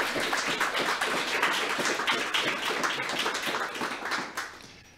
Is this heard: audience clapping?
yes